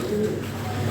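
Fancy European pigeons at a seller's loft give a low, soft coo, steady and close over one second with no talk.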